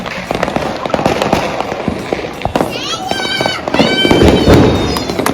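Diwali fireworks and firecrackers bang in rapid, irregular bursts, loud and close, with whistling rockets screaming upward midway and voices in the background, in Sambhajinagar.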